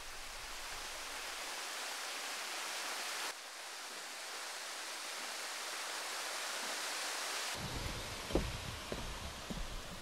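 A steady, broad roar of rushing water from a waterfall, constant throughout, with a few faint knocks and rustles near the end.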